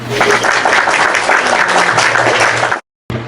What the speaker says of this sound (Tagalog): Bigyan nyo nga ang inyong mga sarili ng limang palakpak.